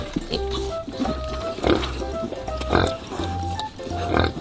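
Black pigs on Jeju grunt and oink in short repeated snorts, close and lively, while people talk over them.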